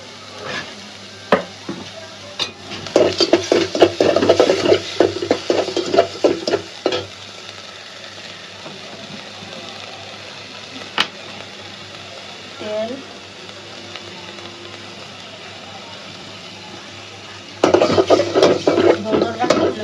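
Prawns with salt frying in a hot pan, bursts of vigorous stirring and sizzling at the start and again near the end, a quieter steady sizzle with occasional clinks in between.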